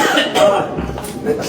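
A person coughs in a comedic doctor's-office skit, a couple of short, rough bursts close to the mic with voices and background noise around them.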